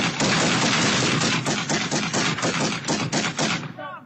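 Rapid volley of gunshots during a police bodycam confrontation with an armed suspect, dozens of sharp cracks in quick succession, loud and close, fading at the end.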